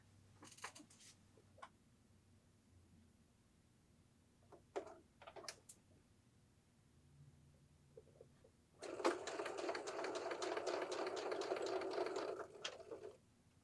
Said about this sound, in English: And we're going to sew them together.